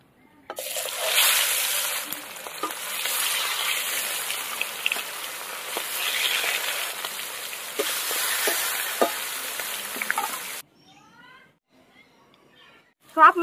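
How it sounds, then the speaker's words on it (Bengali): Large boal fish pieces, a big river catfish, sizzle and crackle steadily in hot oil for about ten seconds, with a dense frying hiss and occasional pops, then the sizzling drops away to near silence. "সব মাছ ভাজা হয়ে গেছে, তুলে নেবো এবার।"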